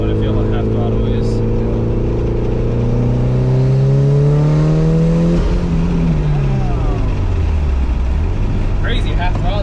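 A tuned, high-mileage Mitsubishi Evo 9 MR accelerates at half throttle, a loud, close engine note climbing steadily in pitch, then dropping and rising again as it shifts, with people speaking over it.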